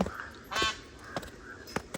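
A peacock or peahen in the forest near Tulsishyam gives a few short, honking calls, one longer and louder, with quieter bursts spaced through two seconds at moderate distance.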